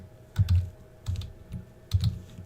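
Bursts of typing on a computer keyboard during game development work, clustered in three short flurries of soft clacks with pauses between, fairly close and alone.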